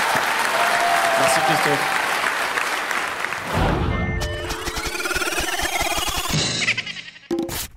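A studio audience claps loudly in a dense burst of applause that gradually thins into scattered claps, with someone speaking briefly over the end.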